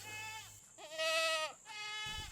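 Goats bleating at a 25-acre goat farm in Thornhill, Tennessee: three close, loud, wavering calls follow one after another, and the middle bleat is the strongest and most drawn out.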